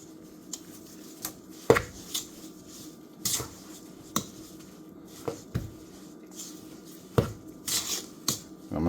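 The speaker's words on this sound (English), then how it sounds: "I'm just using my spoon, a thick metal spoon." A thick metal spoon working butter by hand for pound cake, giving irregular scraping clinks and knocks against the bowl, fairly quiet and close, with gaps between strokes.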